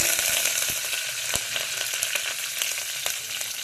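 Cumin, mustard seeds and curry leaves sizzling in hot oil in a pan, a loud continuous frying crackle with sharp pops scattered throughout, no voices.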